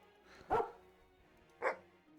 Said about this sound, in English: we've got ourselves a doggy